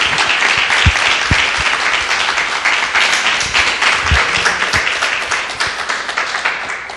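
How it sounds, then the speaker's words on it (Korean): A live audience claps loudly at a radio show recording, a thick burst of many hands that holds steady for several seconds and then begins to thin and fade. "큰 박수 부탁드릴게요"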